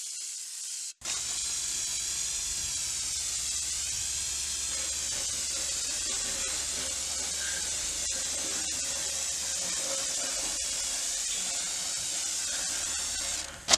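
Fluid Film undercoating sprayed through an undercoating gun kit, a steady broadband hiss of spraying that starts abruptly after a second of silence and runs continuously and close, with no speech.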